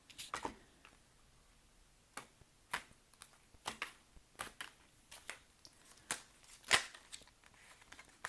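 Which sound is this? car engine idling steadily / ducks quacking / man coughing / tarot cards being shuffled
tarot cards being shuffled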